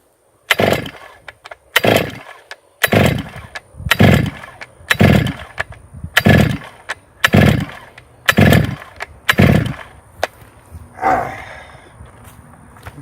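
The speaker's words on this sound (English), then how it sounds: "We're going to see how it takes to get this thing going." A flooded chainsaw engine is pull-started about nine times in a steady rhythm. Each yank makes a loud, rasping burst that sputters briefly, then a fainter rattling follows at the end.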